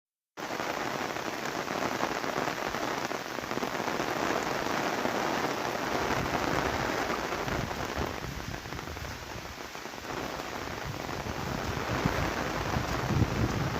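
Heavy rain pours down steadily, a dense, continuous hiss of drops pounding surfaces nearby, loud and unbroken throughout with no voices.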